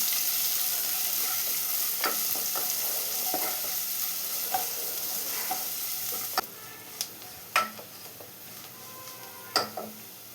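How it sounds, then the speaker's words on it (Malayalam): Sliced onions with other curry vegetables sautéing in a pan for a green gram curry, a steady broad sizzle with occasional scrapes and light clinks of a spoon against the pan, close and alone. "ഇനി ഇതെല്ലാം കൂടെ കളറൊന്ന് മാറി വരുന്നവരെ വഴറ്റിയെടുക്കണം."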